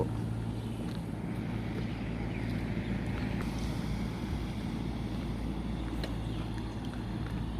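A boat moves along the water near a Thai harbour, alongside large pontoon barges carrying sand and soil, giving a steady, continuous low rumble of engine and water with some wind noise throughout.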